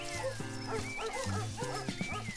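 A small dog barks in quick repeated yips over a bed of playful background music, the barks clear but fairly quiet.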